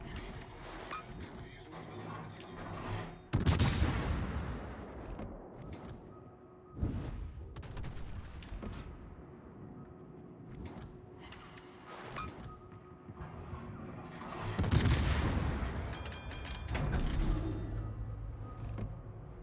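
Warship main guns fire HE shells in World of Warships from the Soviet heavy cruiser Riga, heard as three heavy booming salvos over a steady, busy game background.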